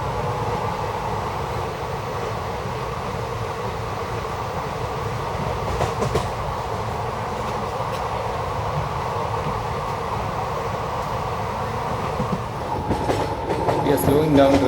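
The Mangaluru Mumbai Superfast Express runs with a steady on-board rumble and faint clickety-clack, wheel noise building and shifting near the end as the train slows.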